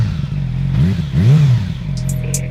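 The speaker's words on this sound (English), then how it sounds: "One last rev." A Yamaha R6 motorcycle with its dB killer removed idles with a deep, steady low drone, then revs up sharply twice in quick succession, each rise and fall clearly audible, before settling back to idle; close and loud.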